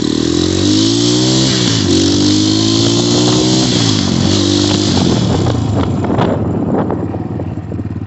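An Xmotos 250cc motorcycle engine revs loud and close while riding, pitch climbing and dropping through several gear changes over steady wind rush.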